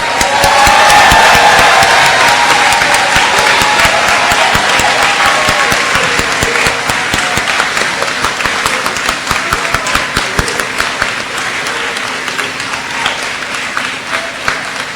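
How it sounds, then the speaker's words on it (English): Audience applause for graduates at an 8th grade promotion ceremony, a large crowd clapping loudly and steadily for the whole stretch and slowly thinning toward the end, with a few cheers mixed in. "let's give our graduates a round of applause"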